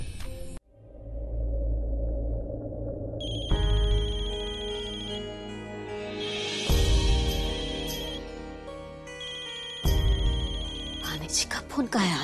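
A telephone rings in a Hindi television drama scene, its electronic ringtone repeating over a sustained musical score, with steady tones fairly loud throughout.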